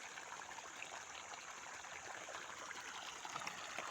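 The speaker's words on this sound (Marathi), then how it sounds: "मी गव्हाला पाणी देत आहे" Irrigation water flows steadily into a wheat field, a broad constant hiss with faint trickling detail, fairly close and unbroken throughout.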